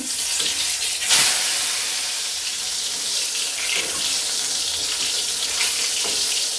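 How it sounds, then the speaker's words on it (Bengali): Brinjal (eggplant) slices fry in hot oil with a steady, dense sizzle that stays fairly loud and even throughout, with a few brief louder flare-ups and no voices. "এই যে বেগুন কেটে মাখা ঠাকা আছে দেখো বেগুনের সাইজটা কত বড় তো এটাই এখন ভাজা হবে এখানে"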